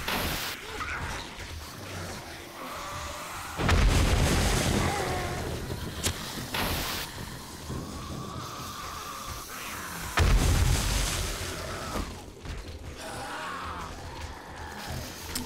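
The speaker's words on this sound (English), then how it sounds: "All right, time for some bombs." Explosions from bombs in the 7 Days to Die video game, Undead Legacy mod during a horde night, heard as two heavy booming blasts several seconds apart over a continuous roaring, windy rumble, with no talking.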